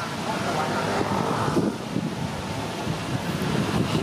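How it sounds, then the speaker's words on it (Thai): Strong wind roars and buffets the microphone in a continuous rumbling rush, with faint indistinct sounds beneath it. "โอ้ลมแรงแล้วครับฝนน่าจะมาแล้ว"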